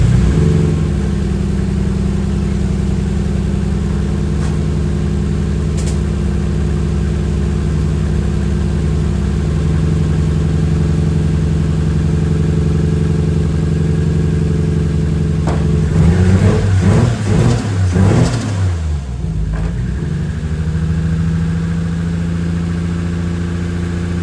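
A Toyota 1JZ engine swapped into a Mazda RX7 idles steadily and loudly with an even hum, then blips briefly with a wavering rev before settling back to idle.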